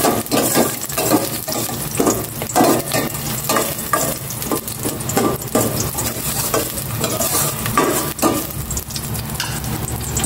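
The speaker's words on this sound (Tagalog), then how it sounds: "Gisa ko na itong bawang." Garlic sautéing in cooking oil, a loud continuous sizzle with frequent rhythmic stirring scrapes of the utensil against the pan, close up and without talk.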